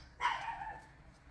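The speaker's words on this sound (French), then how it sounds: "les aboiements sont de retour." Dogs bark outdoors through an open door on a sunny day, a single faint, distant bark burst rising briefly and then trailing off into a low background hum, with no talking.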